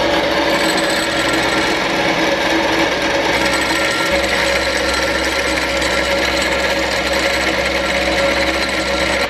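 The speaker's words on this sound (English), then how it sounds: "we need to actually machine part of the kit down to make it fit perfectly, which is what we're doing right now" Loud, continuous whirring and grinding of a machine cutting a metal part from a BMW F80 M3 drift suspension kit, steady and unbroken throughout with a constant low hum beneath.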